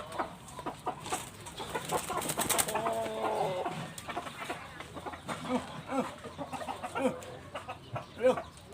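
Chickens cluck and call in a Thai rural setting, a steady mix of nearby fowl sounds with scattered bird chirps throughout, some calls louder and closer than others.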